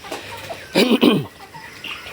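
A young red Tiger-breed chicken gives a short burst of two or three clucks close by, with quiet background noise before and after.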